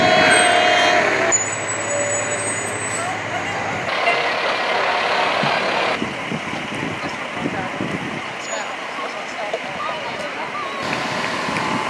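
A truck rumbles and hisses nearby at a St. Patrick's Day parade in Keyport, with broadband mechanical noise and shifting engine tones, while people talk over it.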